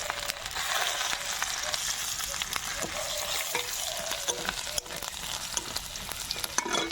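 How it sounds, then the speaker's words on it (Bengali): Whole cumin, a dried chilli, chopped ginger and chopped garlic sizzle and crackle in hot tempering oil, a close, steady frying hiss broken by sharp pops and the scrape of stirring. "ফোড়নে দেব গোটা জিরে, একটা শুকনো লঙ্কা, আদা কুচি, রসুন কুচি"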